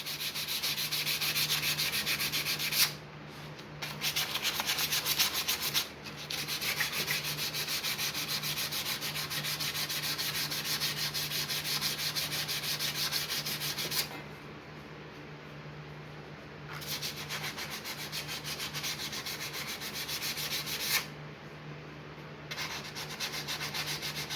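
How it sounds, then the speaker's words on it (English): Sandpaper rubbing an engine's flywheel magnet clean, a steady close abrasive scrape in long strokes with a few brief pauses and a low hum underneath. "You'll take some sandpaper and just make that nice and clean."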